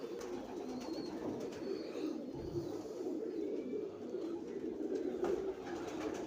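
A pair of Teddy pigeons coos softly and steadily through the whole stretch, low rolling calls over light background noise, with no talking.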